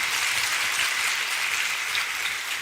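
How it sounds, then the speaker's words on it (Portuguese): A church congregation bursts into dense, continuous applause, a steady wash of many hands clapping at close range, with no voices standing out. "Dá uma salva de palmas para acordar alguém aí"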